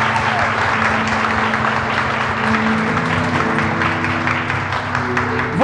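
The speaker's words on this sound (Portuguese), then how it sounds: "Aplauda a palavra de Deus." A church congregation applauds steadily through a Portuguese-language service, with sustained tonal music or organ-like hum running beneath the dense clapping at constant loudness.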